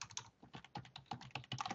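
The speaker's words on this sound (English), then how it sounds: "Just start typing into the box." Fingers type on a computer keyboard at an irregular, quick pace, with soft individual key clicks and small pauses between bursts, close and quiet.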